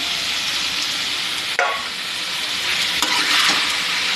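Chicken stomach and liver sizzle steadily in a hot pan, with a couple of sharp scraping stirs cutting through the constant frying hiss.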